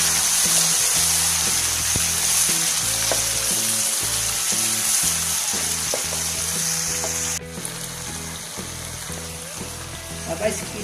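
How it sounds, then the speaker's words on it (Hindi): Onion and garlic masala fries steadily in oil for bhindi, a loud continuous sizzle with occasional stirring clatter, easing slightly toward the end. "मसाले ने ऑयल छोड़ दिया है, लेकिन मैं इसको थोड़ी देर और भूनूंगी"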